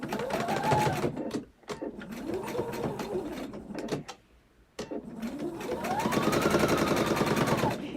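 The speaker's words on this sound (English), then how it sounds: "now all I have to do is take that to the sewing machine and stitch with a 1/4 inch seam allowance" A sewing machine stitches a quarter-inch seam in quilting fabric, whirring in close bursts that rise and fall in speed, with a short pause in the middle before a longer steady run.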